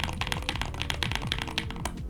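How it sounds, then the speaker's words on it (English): Fast, dense typing on a Contra 40% custom mechanical keyboard with lubed switches, a close, loud clatter of rapid random keystrokes with no talking. "So if I just spam some random keys here"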